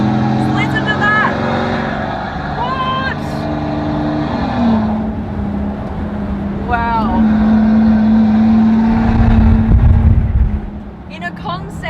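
A one-off Maybach Exelero concept car runs down a private airport strip, its engine droning loudly and steadily and then swelling as it nears, with an excited voice exclaiming over it.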